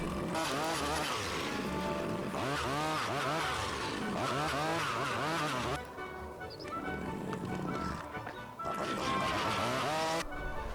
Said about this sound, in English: So there he is with his Archimedes screw, drilling the holes as fast as could be.